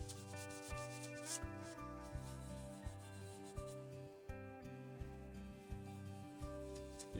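A product gets rubbed in circles over a surface, a soft repeated swishing friction in steady cycles with a tonal hum running underneath.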